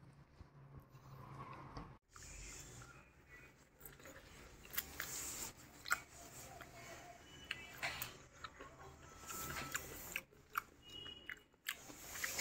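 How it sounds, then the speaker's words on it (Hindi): Someone bites and chews capsicum pizza close to the mic. Crunchy, irregular chewing sounds run throughout over a busy background, with a brief drop around two seconds and no clear talk. "जल्दी से पिज़्ज़ा खाते हैं,"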